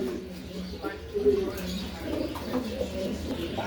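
Pigeons at a home pigeon farm coo softly in low, rolling calls close by, mixed with faint chirps and someone talking over them.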